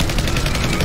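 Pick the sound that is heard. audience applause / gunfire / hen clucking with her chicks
gunfire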